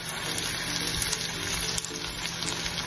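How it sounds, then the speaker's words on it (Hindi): Ginger garlic paste frying with light-brown onions in a pan for urad dal, giving a steady, close sizzle with small crackles and stirring scrapes and no talking. "अदरक और लहसुन की बहुत अच्छी स्मेल आनी शुरू हो गई है, ये बहुत अच्छे तरीके से भुन गया"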